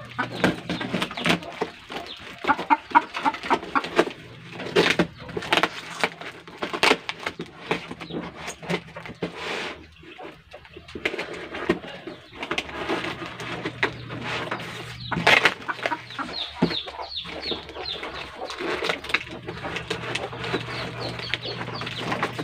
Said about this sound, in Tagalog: maraming manok dito eh. Kaya maingay.